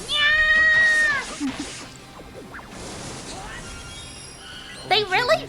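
A flying cat character in the Granblue Fantasy game lets out loud, bright meows at the start and again near the end, with crashing battle effects and a voice calling out in between.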